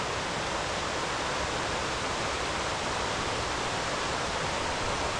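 Water of Kahshahpiwi Creek in the Quetico wilderness rushing steadily, a close, loud, unbroken broadband roar with no voices.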